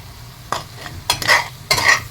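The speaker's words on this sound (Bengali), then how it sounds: "ভালো করে একটু নেড়ে নিলাম মশলাটাকে" Spices with turmeric powder being stirred in a pan, with a few quick scraping strokes in separate bursts and a soft sizzle between them. No talking.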